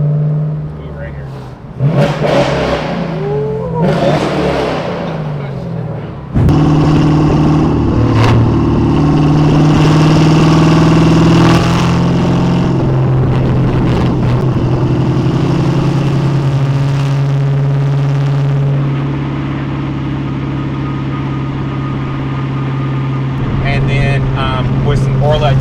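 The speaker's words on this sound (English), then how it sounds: "very happy with the way the exhaust came out." An LS-swapped Hyundai Genesis Coupe with Borla ATAK mufflers and quad tips barks to life and then holds a loud, deep, steady rumble with rising and falling revs, close by, while people talk over it at the start.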